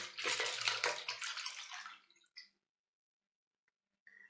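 Preserved cherries in their own juice pour into a rounded colander with a steady splashing liquid rush for about two seconds, then a few drips and a faint final splash, close and alone.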